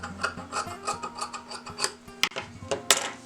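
Scissors cutting through lining and main fabric for a blouse, a steady series of close, scraping snips and rubs, quiet room with no talk.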